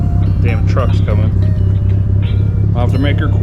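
A truck on a road rumbles with a low, steady engine drone that grows close, while people talk over it.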